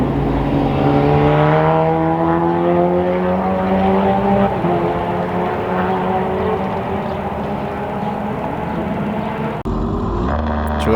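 A Formula Ford race car engine on an outlap, loud and steady as it climbs through rising revs with several upshifts, then holds a sustained drone, with a brief cut near the end.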